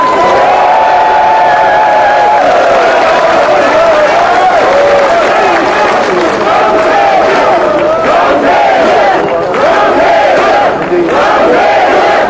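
A large crowd at an outdoor election rally in Jongno, Seoul, cheering, shouting and clapping loudly and continuously, with a dense roar of voices sustained throughout.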